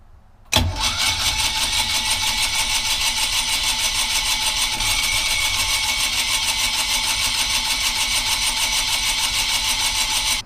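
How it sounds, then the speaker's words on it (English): An old boat diesel engine cranks and catches, then runs loud and steady at close range with a rough, even chug for about ten seconds, with no talking. "Let's try starting the engine."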